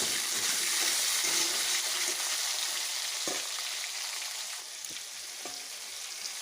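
Potatoes sizzling in a pan with tomato and slit green chili, a steady bubbling fry with occasional stirring clicks and scrapes, close and continuous.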